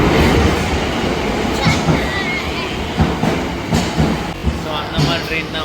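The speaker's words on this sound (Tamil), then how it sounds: "இந்த மாதிரி ட்ரெயின், லோக்கல் ட்ரெயின் ஏறி ஷிஞ்சுகு ஸ்டேஷன்" A local commuter train pulls into a Tokyo station, its rumbling wheels and rhythmic clacks rolling steadily with a squeal or two, while people talk nearby over the platform noise.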